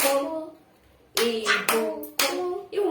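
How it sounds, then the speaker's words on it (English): Hands clap the syllables of a child's name in a phonics lesson: three sharp, close claps in a steady rhythm, preceded by a short spoken word. "syllables are how many times you can clap in a word"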